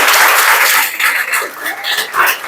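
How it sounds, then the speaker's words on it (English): A class clapping for their teacher after a maths lesson, loud uneven applause with bursts that swell and dip across the clip, no speech over it. "You won't clap for your teacher."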